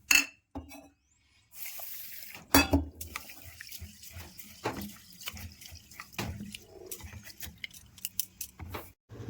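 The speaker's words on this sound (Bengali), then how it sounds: "এবার চালটা ভিজিয়ে দিচ্ছি।" Water runs and splashes into a bowl of rice set to soak for mug poa pithe, with intermittent pouring bursts, clinks and drips, close and fairly quiet, no talk.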